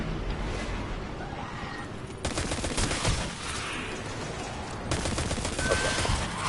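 Rapid energy-weapon fire from a hard light gun in a shooter game, sustained bursts of crackling shots layered over constant battlefield noise.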